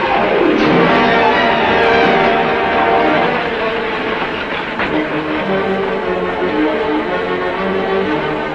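A train rolls steadily along the rails with a loud continuous rumble and rhythmic clatter, a brief rising whistle-like tone early on, heard close and alone.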